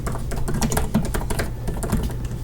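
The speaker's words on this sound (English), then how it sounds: "yes, this keyboard feels just straight up incredible. I love how this thing feels." Fast, steady typing on the keyboard of a Microsoft Surface Laptop Studio, a dense close-up patter of soft key clicks with no voices.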